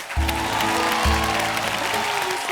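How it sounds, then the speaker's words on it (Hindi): Audience applause on a Hindi television game show stage, a steady wash of clapping from a studio crowd underneath loud tonal musical stings that hit twice, strong and close. "जोरदार तालियां नीलम जी के लिए दोस्तों"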